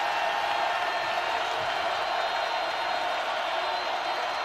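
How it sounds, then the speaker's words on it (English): A packed college basketball arena crowd roars in steady, dense cheering throughout a men's game between Iowa State and Oklahoma State, loud and continuous with no breaks. "Crowd loving it."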